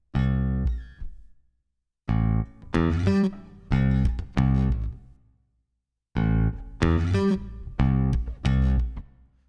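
Short, punchy programmed electric bass notes in a DAW play in a repeating rhythmic pattern, separated by brief silences, clean and close.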